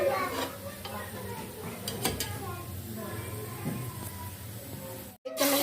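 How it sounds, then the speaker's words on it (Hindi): Ginger garlic paste frying in oil in a pan for chicken nihari, a steady sizzle broken by spoon scrapes and clinks against the pan, cutting out abruptly near the end. "चम्मच में लहसुन अदरक का पेस्ट डालेंगे और इसको हम फ्राई कर लेंगे"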